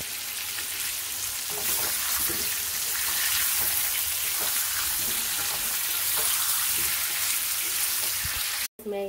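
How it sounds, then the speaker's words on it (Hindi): Masala spices sizzle and fry in a hot pan for an egg-potato curry, with a steady close crackle and occasional soft stirring scrapes. It runs continuously and ends with a brief cut. "मैं यहाँ पे मसाला भून रही हूँ"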